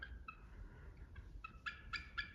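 A bald eagle near its nest gives a series of faint, high, chattering calls outdoors in Wisconsin or Iowa, at a distance, rising into clustered piping notes toward the end over a low background rumble.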